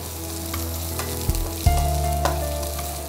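Small shallots sautéing in a pan for prawn curry, a close steady sizzle with a few sharp spoon knocks and stirring scrapes.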